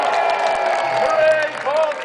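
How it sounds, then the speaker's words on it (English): Crowd at a medieval festival finale cheers for a line of archers by a castle, lively clapping and calls mixed with voices, loud and close throughout. "Let's cheer the archers!"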